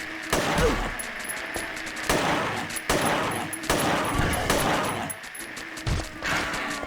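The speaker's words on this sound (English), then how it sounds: "So, yes, let's get out the handgun." Handgun shots in the survival horror game Silent Hill 3, fired as a rapid run of sharp reports over about seven seconds, mixed with thuds and dense game sound, loud and close.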